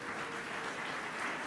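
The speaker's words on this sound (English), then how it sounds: "You can applaud them." Gala audience applause at an anniversary event, a dense, even wash of many hands clapping, steady and somewhat distant throughout the brief moment.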